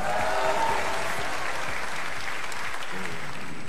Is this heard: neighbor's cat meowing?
no